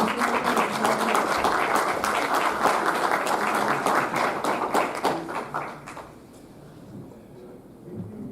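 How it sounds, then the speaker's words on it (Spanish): An audience at a geology symposium gives a speaker a hearty round of dense, steady clapping that holds for several seconds, then fades quickly into a quiet room with a faint noise at the end. "un fuerte aplauso para el"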